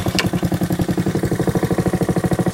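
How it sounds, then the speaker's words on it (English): Honda HRR216 walk-behind lawn mower engine idling while warming up, a close, steady, rapid chugging pulse of even rhythm, with one brief sharp click near the start. "I like to start them off low and let them idle for a little while and warm up"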